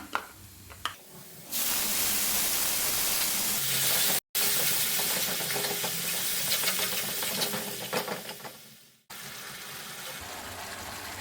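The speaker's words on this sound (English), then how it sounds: "So I'll add the yogurt now." Yogurt pours into a hot pan for Bengali rohu fish kalia, setting off a loud, steady sizzle and hiss that runs for several seconds, breaks off briefly, then resumes and fades as the liquid settles.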